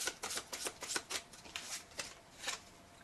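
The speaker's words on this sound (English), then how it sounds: "Let's do a big girl shuffle." Tarot cards are shuffled close up in a quiet room, a series of crisp riffling bursts about every half second, soft and even, with no talk.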